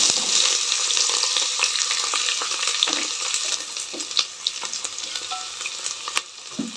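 Thinly sliced onions sizzle and crackle steadily in a hot pan as they are stirred, with scraping strokes and occasional sharper clinks against the metal throughout.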